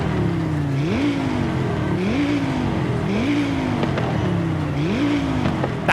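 A loud, close Audi RS3 engine, tuned to 1000 horsepower in Forza Horizon 5, roars, its pitch climbing and then dropping at each gear shift, repeated in a steady rhythm with no talking.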